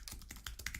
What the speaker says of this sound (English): I'm just typing in the background here